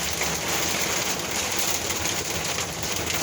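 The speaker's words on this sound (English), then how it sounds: "It's raining pretty good too." Steady, fairly heavy rain falling outdoors, a dense unbroken hiss that runs the whole time with no voices.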